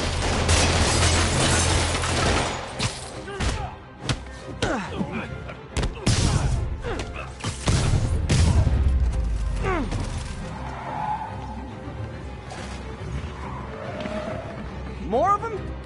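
Criminals fire guns at Spider-Man in a Spider-Man video game, a dense stretch of rapid gunshots and crashing impacts loud in the foreground, with voices shouting over the action.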